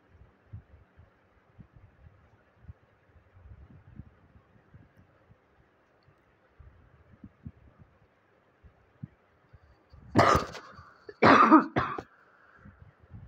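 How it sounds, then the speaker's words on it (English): A person coughs twice in quick succession, close and sharp, after a stretch of quiet faint low thumps and handling noise, then it falls quiet again. "just coughing."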